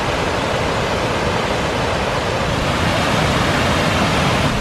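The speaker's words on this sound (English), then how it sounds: "Look at the amount of water that is rushing down." A swollen stream rushes loudly and steadily beside a road, a dense continuous roar of moving water with no pauses.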